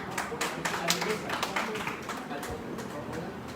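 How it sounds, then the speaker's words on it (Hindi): Audience clapping at a community organisation's stage felicitation event, a modest burst of scattered hand claps with a voice over it, fairly faint and thinning out toward the end. "थोड़ी तालियां तो बजा सकते हैं।"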